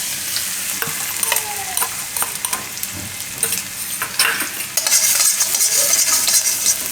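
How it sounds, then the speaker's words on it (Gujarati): Garlic dropped into hot oil crackles and sizzles up close, with scattered spatters and light stirring scrapes, the hiss swelling louder and brighter toward the end; no voices. "તો તેલ આપણું ગરમ થઈ ગયું છે. એમાં આપણે નાખશું આ લસણ."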